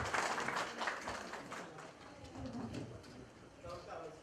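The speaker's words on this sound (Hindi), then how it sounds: "तालियां बहुत जरूरी हैं।" A crowd at an awards ceremony claps in a dense patter, loudest at first, then thinning slightly while a voice talks faintly underneath.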